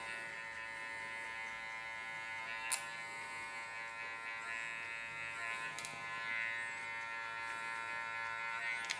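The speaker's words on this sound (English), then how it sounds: "So you get the trimmer again" An electric hair trimmer buzzes steadily and close up while blending a beard during a burst fade mullet haircut, with a few brief clicks over the continuous hum.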